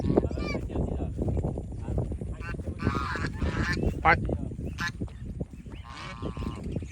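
Farm geese kept in a small flock on a rice-growing wetland honk loudly and repeatedly, overlapping calls close by with a dense, noisy background.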